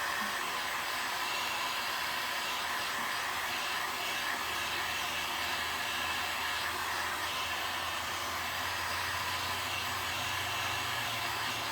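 A handheld dryer blows steadily over a decoupage craft project, a constant close rushing whir of air that holds at one level for the whole stretch, with no talking.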